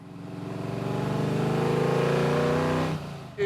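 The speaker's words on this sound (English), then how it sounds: "There's nothing like the rumble of a V8." Close up, a V8 car engine revs in one long, rising and sustained burst, then drops off sharply near the end.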